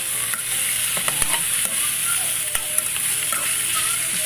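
Duck kaldereta ingredients sauté in a hot pan, giving a steady loud sizzle with scattered clicks and scrapes of stirring throughout, no voices.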